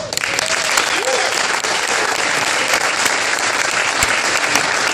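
Crowd applause for a band at a political event in Athens, loud continuous clapping with scattered cheers, steady throughout.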